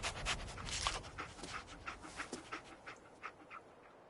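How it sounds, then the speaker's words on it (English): Dogmeat, the dog companion in the video game Fallout 4, pants in quick, breathy bursts with faint sniffs, moderately close and fairly soft, fading slightly toward the end, with no talking. "Dog meat. Get the scent,"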